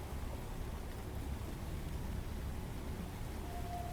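Steady rain hisses in the Phantom Brigade video game, a continuous dense wash of drops with no talking and a faint tone near the end.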